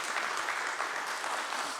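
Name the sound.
church congregation applauding choir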